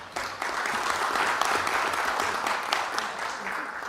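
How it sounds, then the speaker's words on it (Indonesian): An audience applauds a young speaker at a formal gathering, a steady wash of many hands clapping throughout, moderately loud and continuous with scattered sharper claps. "kita kasih aplaus"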